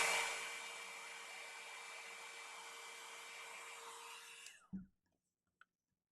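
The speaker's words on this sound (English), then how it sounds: "So we'll heat emboss it to get these guys to set." A heat embossing tool blows a steady, airy whoosh over embossing powder on paper for several seconds, close and even, then switches off with a brief click, leaving silence.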